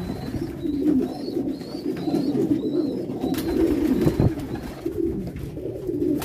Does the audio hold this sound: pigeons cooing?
yes